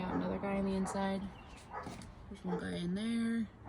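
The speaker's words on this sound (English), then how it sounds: "Excuse my dogs, they're very loud." Several loud dogs barking and yipping on a seven-acre rural property in Oregon, the repeated barks blending with a person talking nearby.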